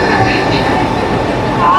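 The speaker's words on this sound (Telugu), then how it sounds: "మన ట్రైన్ వచ్చేసరికి ఆల్కో పుల్ చేసుకుని వస్తుంది." Train arriving behind an Alco WDM3A diesel locomotive, a steady loud rumble of rolling wheels and engine close by, with a faint high squeal near the end.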